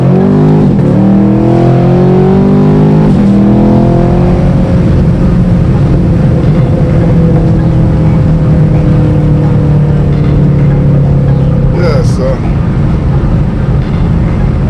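A 2020 Chevy Camaro accelerating hard from inside the car, a loud engine roar climbing through rising gear pulls with brief shift dips, continuous and close, with a voice briefly heard over it.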